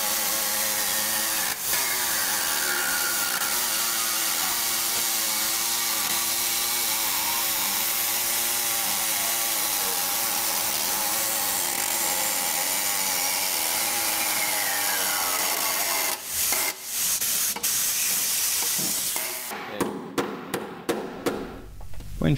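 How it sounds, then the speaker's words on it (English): An air hacksaw cuts metal on a Toyota 76 series wagon in a continuous loud reciprocating rasp that runs for many seconds, ending in a few sharp clanks and choppy strokes. "The air hacksaw would be the best choice as it results in a lot less sparks during the cutting process, as demonstrated in this video"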